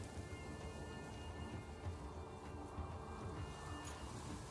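Steady rain hiss with rolling thunder rumbles from a weather effect in the Gwent card game, a continuous dense wash of falling water with low booming underneath, no voices.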